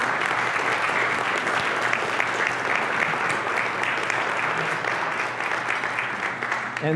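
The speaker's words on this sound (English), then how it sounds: "Big round of applause, please." Sustained, even applause from a presentation audience honoring ACE alumni and students, a thick roar of many clapping hands holding steady and fairly loud for several seconds.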